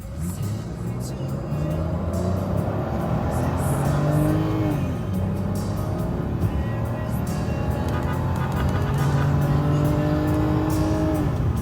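A BMW E39 car with a swapped-in 3-liter engine and a new fuel pump runs steadily throughout, with rising and falling revs as it accelerates and shifts, heard from close by over constant road and motor noise.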